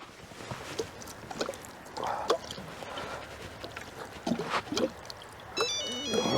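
A mobile phone ringtone plays near the end as a short run of repeated electronic tones, heard in a garage during work on an Alfa Romeo Brera gearbox, over faint workshop noise and scattered knocks.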